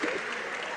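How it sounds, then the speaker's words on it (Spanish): An audience at an international forum on political parties breaks into applause, a dense, steady wash of clapping from many hands heard briefly throughout. "Un aplauso para que funcione la cosa."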